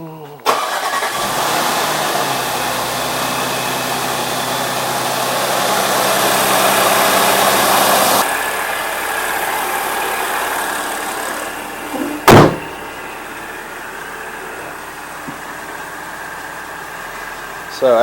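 An Audi B8 S4 engine cranks, starts and settles into a steady idle after maintenance, loud and close with a sustained rev before dropping to a lower idle, and a sharp knock partway through.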